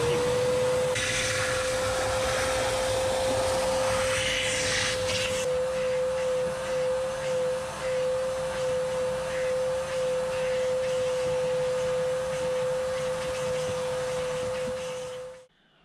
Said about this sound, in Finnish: nyt laitetaan tekstiilipesuri päälle. Elikkäs vesi päälle.